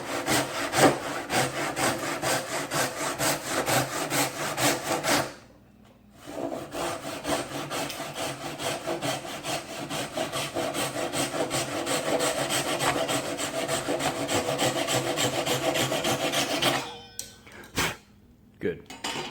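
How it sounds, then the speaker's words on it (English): A sharp hand saw cuts through wood for a quilted maple Telecaster body, with steady back-and-forth rasping strokes that run loud and continuous, pause briefly, then resume before a few final scrapes. "These saws are so incredible sharp."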